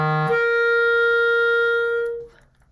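Clarinet sounding a sustained low F that jumps to a held C in the second register when the register key is pressed, played solo with a clean tone.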